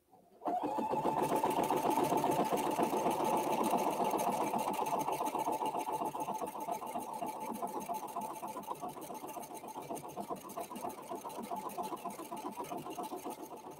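A sewing machine stitches satin cording onto a quilt with gold thread, a steady fast mechanical chatter running close and loud without pause for the whole stretch after a brief start.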